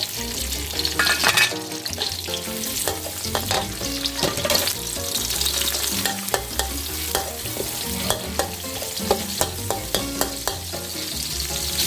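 Kale sprouts and vegetables are stir-fried in coconut oil in a hot pan, giving a loud, continuous sizzle with many quick metallic clanks and scrapes of a spatula tossing the food, close up and busy throughout, with no talking.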